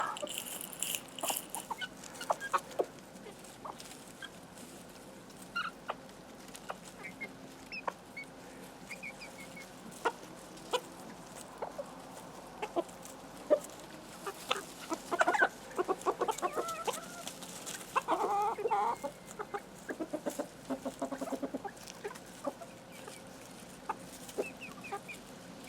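Backyard chickens, including a hen descended from a black silkie, clucking and murmuring in scattered bursts over a quiet outdoor background, with occasional sharper calls and a busier stretch midway.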